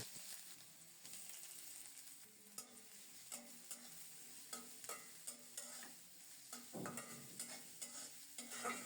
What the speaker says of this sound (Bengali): অল্প কিছুক্ষণ পেঁয়াজটাকে নেড়ে চেড়ে